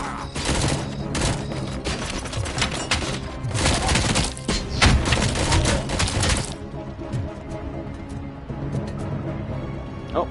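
A frag grenade blast and heavy gunfire in the shooter RoboCop: Rogue City, with loud bursts of shots and crackling impacts for about six seconds, then a quieter rumbling tail.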